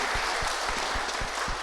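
A crowd at a motivational talk gives brief applause, a short burst of clapping with a few distinct heavier claps standing out.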